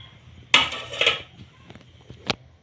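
Potatoes and beans are stirred in a pan, giving a couple of sharp metal scrapes and clinks from a spoon against the pan, then a lighter tap near the end.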